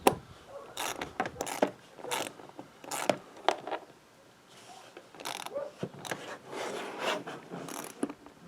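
Ratchet clicks and turns, driving Allen-head screws while fitting Kemimoto fender flares to a KRX side-by-side; bursts of close ratcheting repeat in short irregular runs with brief pauses, no talking.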